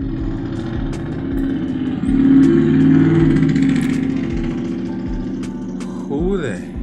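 A loud truck engine outside rumbles and revs, a deep, continuous mid-low drone that swells louder near the middle then eases, with a voice briefly speaking over it near the end.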